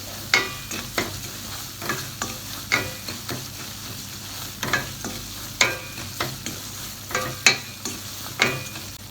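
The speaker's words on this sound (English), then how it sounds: "just stir it in the ghee" Semolina (suji) is stirred in ghee over a medium-low flame, with repeated scraping strokes of a spoon in the pan over a soft, steady sizzle, heard close and without talk.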